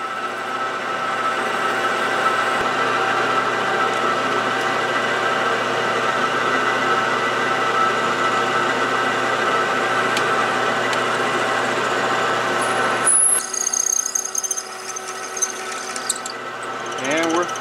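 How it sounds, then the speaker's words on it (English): A 15 mm reamer run through a hole, lubricated with WD-40, grinds steadily with a loud droning machine hum that continues unbroken, then shifts and thins near the end. "I have a 15 millimeter reamer that I'm gonna run through it"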